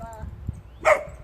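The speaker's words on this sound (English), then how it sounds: "Well, Moose is barking" One quick dog bark, close and brief, following a faint whine over low background rumble.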